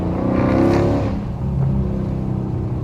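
A rebuilt Chrysler 300 SRT8 with the 392 V8 accelerates, its engine roaring loud and close from inside the car before easing to a steady, lower drone.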